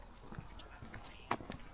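Horses walking in the Nuuksio countryside of Finland, their hooves giving a faint, irregular clip-clop at a distance, with soft voices and outdoor background noise around them.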